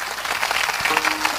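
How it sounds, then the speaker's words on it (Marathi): An audience at a kirtan breaks into loud, dense clapping that continues evenly throughout, with a brief voice in the background. "एकदा सगळ्यांसाठी जोरात टाळी वाजवायची."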